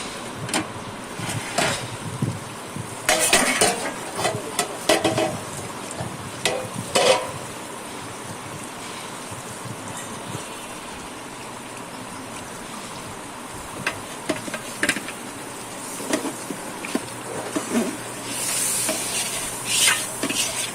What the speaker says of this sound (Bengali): বারবার নাড়াচাড়া করে দিতে হবে যাতে মাংসগুলো এসে না লেগে যায়।